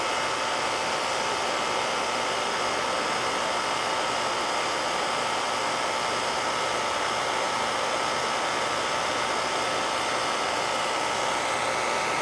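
A Ruud air conditioner runs steadily during annual service, giving a continuous broadband whoosh of fan and airflow with no break or change for the whole stretch and no voices.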